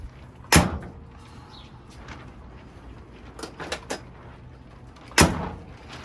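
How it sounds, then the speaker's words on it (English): A car door on a Volkswagen Beetle body swapped onto a BMW Z3 is opened, giving a sharp clunk, then faint rattles and a second loud clunk, close in a quiet garage. "Let me do the door really quick."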